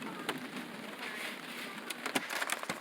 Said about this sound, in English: We're playing in the rain.